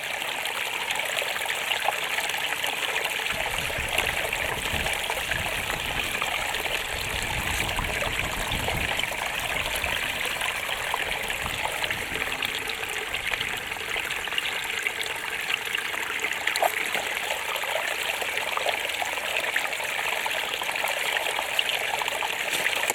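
Water trickles and gushes steadily through a camping water filter beside the Elk River, a continuous, fairly loud outdoor flow with no voices.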